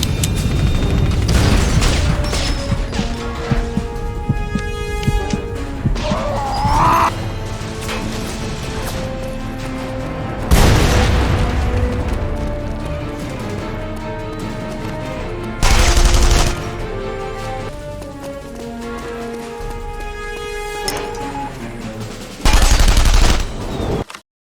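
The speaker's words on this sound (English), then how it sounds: "The shooting started." Sustained gunfire and explosions in The Saboteur, a 2009 video game. Continuous automatic fire is punctuated by several loud booming blasts, with a brief burst of game music and no talk.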